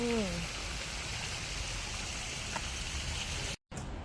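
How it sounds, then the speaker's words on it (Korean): Steady rushing water flows continuously, like a running tap or stream, with a brief voice at the start and a short dropout near the end. "물소리 좋다."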